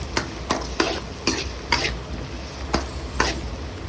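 Sliced onions with a pinch of salt sautéed in a pan for a cauliflower and egg thoran, a spoon scraping and stirring in quick, regular strokes over a steady close sizzle, with no voices.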